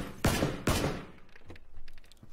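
Two sharp gunshots crack close together in PUBG, each with a quick decaying tail, followed by fainter, scattered distant pops.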